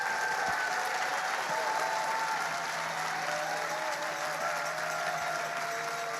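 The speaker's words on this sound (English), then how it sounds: "So let's give those guys a little round of applause." Sustained crowd applause for ultramarathon runners at the Western States 2024 awards ceremony, even clapping spread across an outdoor audience with faint voices and tones underneath.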